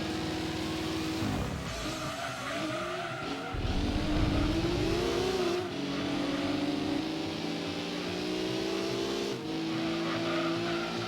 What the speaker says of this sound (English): Those two Hondas are starting to sound like mosquitoes.